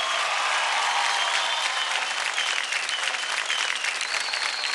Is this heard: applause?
yes